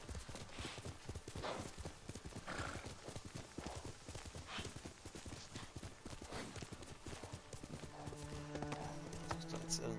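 Horse hooves clip-clop in a steady rhythmic gait as a rider circles around in Ghost of Tsushima, close and continuous, with a faint whinny and a voice talking over the hoofbeats.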